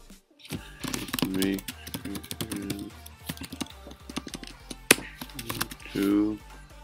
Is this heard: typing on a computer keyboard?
yes